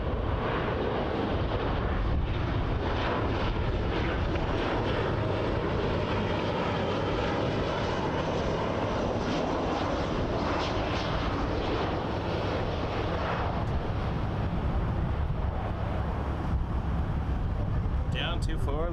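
WestJet airliner in Swoop livery landing on runway 24L at Toronto Pearson, a steady, loud engine roar with wind rumble lasting throughout, while someone talks over it at times.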